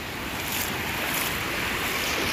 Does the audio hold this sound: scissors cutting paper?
no